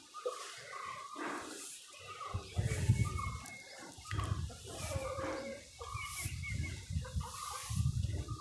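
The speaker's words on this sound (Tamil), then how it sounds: "கோழியும் நிறைய இருக்குது" Chickens cluck and chatter in a forest farmyard alongside goats, cattle and other animal calls, a busy, continuous mix of bird sounds at moderate distance.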